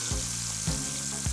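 Food sizzles steadily in a hot pan before pesto is added, with a soft stirring scrape repeating about three times.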